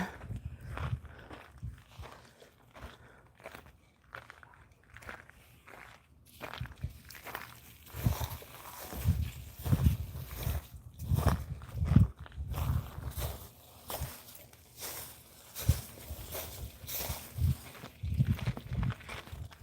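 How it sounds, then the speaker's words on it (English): Soft footsteps crunch and crinkle over very dry ground outdoors at night in an irregular walking rhythm, quiet and close, with no voices. "it's so dry here, you can hear every footstep, right? Crinkle, crinkle, crinkle as I walk."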